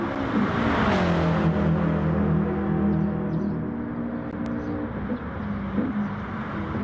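A sim racing game car engine in a CRT championship race holds a loud, steady tone with rising revs, then eases into a softer drone toward the end, with no talk.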